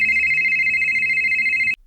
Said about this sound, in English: he discovers a ringing phone